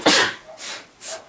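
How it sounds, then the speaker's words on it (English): A woman sneezes loudly and close, one sharp burst followed by softer breathy exhales and a second airy puff, indoors during a relaxed sit-down chat. "I need to sneeze."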